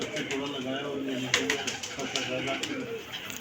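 Pigeons coo softly in a loft, their low rolling calls running continuously beneath a voice talking.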